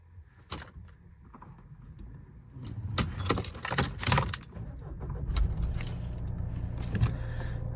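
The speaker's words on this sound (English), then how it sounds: "But what I will do is I'll start the car up quickly." Keys jangle, then a 2008 Mercedes C220 CDI W204 Sport estate diesel cranks and starts, settling into a steady idle heard up close with no talking.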